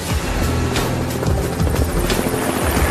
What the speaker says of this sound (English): It's a great helicopter.